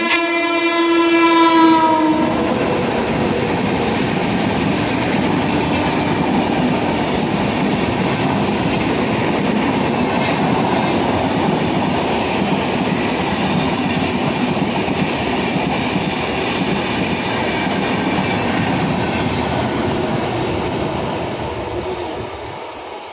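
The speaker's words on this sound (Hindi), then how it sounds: "ଏଇଠି ସେ ଟ୍ରେନ୍ ଦେଖିବାକୁ ଯାଇଛି" A train rolls past close by for over twenty seconds, opening with a loud sustained horn blast and settling into a steady roar with wheel clatter that fades slightly at the end.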